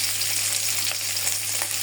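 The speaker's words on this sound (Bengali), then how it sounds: "ডিমগুলো আগে একটু ভাজিয়ে নিতেছি" Eggs fry in hot oil with a loud, continuous crackling sizzle and occasional sharper pops, heard up close and alone over a low steady hum.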